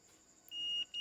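A multimeter in buzzer (continuity) mode while testing a bridge rectifier: a steady high electronic beep comes on sharply, cuts off briefly, then starts again, fairly quiet against a near-silent background.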